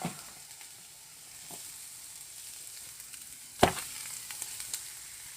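Onions sizzle softly and steadily in a frying pan, with a sharper clatter of stirring partway through. Small pops rise above the quiet hiss, and no one speaks.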